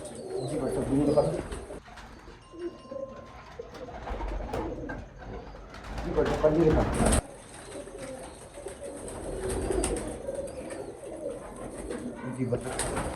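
Soft repeated cooing from Teddy pigeons of the Bankay breed kept in a loft, low murmuring calls with occasional wing flutters and knocks, people talking nearby.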